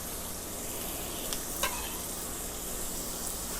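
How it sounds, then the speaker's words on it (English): Chopped onions sauté in hot butter in a pan, a dense constant sizzle with a couple of faint utensil taps, heard close and without voices. "So I sauteed my onions for just about 2 minutes, 3 minutes."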